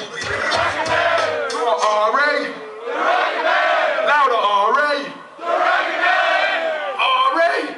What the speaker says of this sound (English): Beautiful motherfucking crowd.